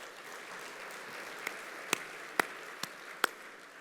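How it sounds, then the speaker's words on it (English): Scattered audience clapping at a North San Antonio Chamber of Commerce State of Business event in 2024, with a few distinct sharp claps standing out over a soft, steady crowd wash. "How about a round of applause?"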